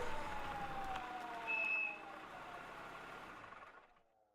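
Police car siren in the video game Harvester, a wailing siren at moderate distance over a low engine rumble, holding steady and then fading away toward the end.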